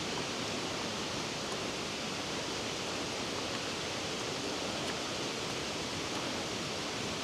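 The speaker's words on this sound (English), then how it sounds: "so you can view the waterfall" Waterfall at Laxey pouring in a steady, unbroken broadband rush, loud and continuous throughout with no voices.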